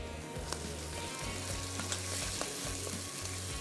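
Chicken filling for malai patties sautés in a pan with a steady, even sizzle and a few faint pops, close and without any voices.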